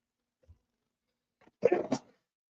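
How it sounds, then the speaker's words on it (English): A single quick sneeze, sharp and burst-like after a brief intake of breath, fairly faint and alone in a quiet room. "Sneezing all over the place."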